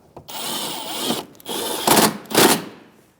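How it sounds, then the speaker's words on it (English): Power tool driving three 7mm bolts into a 2016-2025 Chevrolet Malibu 1.5L engine bay, in several short whirring bursts separated by brief pauses, fairly close and loud with no talk. "I'm going to put these 3 bolts in, all 7mm."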